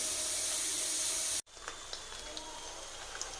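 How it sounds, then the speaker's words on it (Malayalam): Urad dal vada dropped into hot oil over medium flame, giving a loud steady sizzle and hiss that cuts out sharply, then returns softer with scattered little pops and crackles. "ഞാൻ ഉഴുന്നുവട ഇട്ട് കൊടുത്തിട്ടുണ്ട്."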